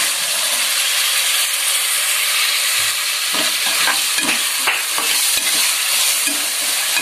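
Potatoes, tomato and carrot fry in a pan for a chicken curry, giving a steady loud sizzle with a few scraping stirs partway through and no talking.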